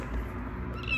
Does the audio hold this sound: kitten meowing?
yes